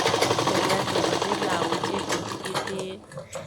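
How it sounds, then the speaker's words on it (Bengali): A sewing machine runs a fast, steady stitch straight along folded fabric with a cord set in the middle, making a latkan tassel. The whirring is loud and continuous, then slows and eases off near the end. "এখান থেকে সোজা সেলাই টেনে দেব"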